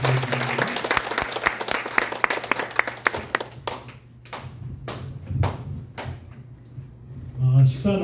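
Audience applause at a joint church worship service, a brisk burst of clapping that thins into a few scattered claps, followed by someone speaking.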